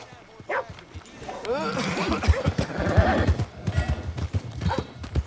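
A horse in the Red Dead Redemption 2 video game, with hooves clip-clopping and a whinny rising over a busy, close mix of game sounds for a few seconds.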